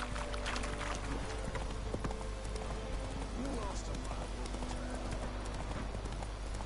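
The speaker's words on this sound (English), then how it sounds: "Bueno, aquí tenemos los caballos. Run, Roach." Rapid, rhythmic clip-clop of the horse Roach galloping in The Witcher 3 video game, continuous hoofbeats with game ambience while a voice speaks over it.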